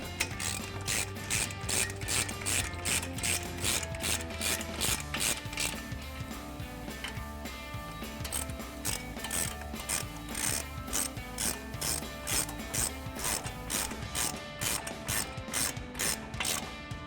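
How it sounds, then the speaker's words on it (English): A ratchet with a 21 mm socket tightens the brake caliper bolts on a 2009-2018 RAM 1500, clicking quickly and evenly in a steady stream, fairly quiet and close, with no talking. "go ahead and use your 21 millimeter socket and tighten them up"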